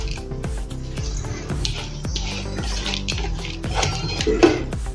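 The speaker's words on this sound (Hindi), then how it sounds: "मैंने पानी निकाल लिया है और इसमें डाल देंगे अपने बासमती चावल" Soaked basmati rice is tipped into a pan for Mexican rice, with a run of soft wet patters and drips, clinks and a sizzling swell toward the end, fairly close and alone.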